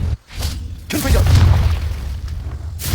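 A Confringo blasting spell explosion from the video game Hogwarts Legacy: a short whoosh, a brief lull, then a heavy booming blast with a rumbling tail, loud and close.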